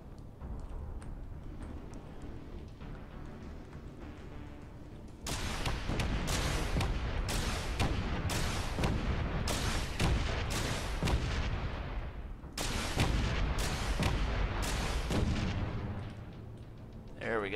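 Rapid bursts of weapons fire from rocket launchers and a rear turret in the game Space Engineers, starting quietly then erupting into loud, dense volleys of blasts and explosions that sweep through most of the stretch, with a brief pause before another barrage.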